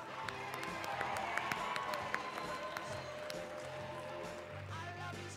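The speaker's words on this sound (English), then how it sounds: "Let's give one more big round of applause to all those Proficiency Award winners." Audience applause for Proficiency Award winners at a Utah FFA state conference session, a dense, steady roar of clapping from a large hall crowd with scattered sharp claps standing out, heard at a distance, with some voices beneath.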